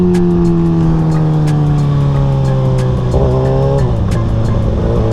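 A 600cc supersport motorcycle engine, held in a wheelie, makes a loud, steady high-pitched drone with a rising pitch, then a brief dip and change in tone near the end, close and continuous.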